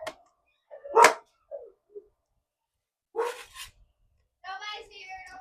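A dog barking indoors in a sewing room, a few sharp barks and yips spaced apart, close and fairly loud, with brief quiet gaps between.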